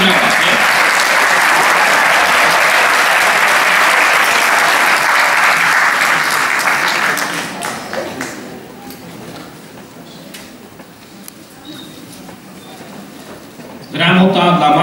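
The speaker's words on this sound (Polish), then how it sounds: "Wszyscy brawa, nie?" An audience at a children's festival awards ceremony applauds loudly and steadily for about seven seconds, then the clapping thins and dies away, and a presenter's voice returns at the end.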